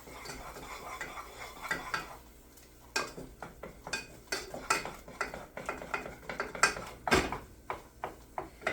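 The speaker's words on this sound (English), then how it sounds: "So I'm just going to stir that up." A utensil stirs a zucchini and Parmesan gratin mixture, making quiet, irregular scraping and clinking against the dish with no talking.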